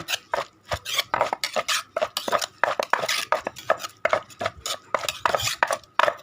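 Santol fruit salad being pounded in a mortar, a busy run of sharp wooden and ceramic knocks, scrapes and stirs in a quick irregular rhythm, close and fairly loud with no talking.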